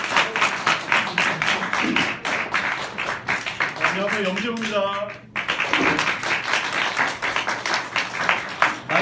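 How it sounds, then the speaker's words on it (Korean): Audience clapping to welcome a lecturer at an internship session, a sustained round of applause under a man's speech, with a brief lull midway before the clapping picks up again. "염지홍 선생님 큰 박수로 환영해 주십시오."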